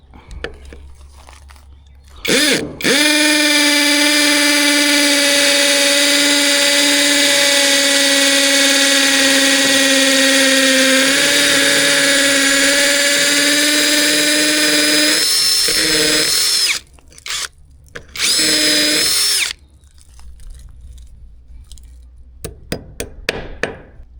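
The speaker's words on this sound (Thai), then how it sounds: "จะเป็นโหมดที่เจาะแล้วก็กระแทกด้วยนะครับ" A MASARU cordless hammer drill in hammer mode at full power runs loud and steady for about thirteen seconds with a high whine, then two short bursts follow before it stops.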